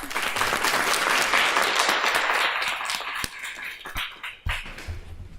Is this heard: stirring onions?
no